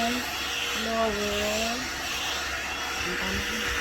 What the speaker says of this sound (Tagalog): Ibablower ko kayo. Blower natin kasi giniginal.